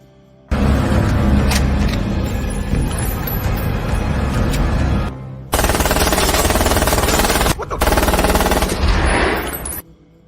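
Movie gunfire from a UMP submachine gun: loud, sustained automatic bursts that fill nearly the whole stretch, broken by two brief pauses and then stopping abruptly, with no voices.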